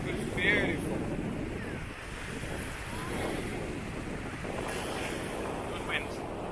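Steady wind on the Mediterranean coast during a motorcycle tour, a continuous low rushing roar buffeting the microphone, with surf sounds blended in and no clear speech.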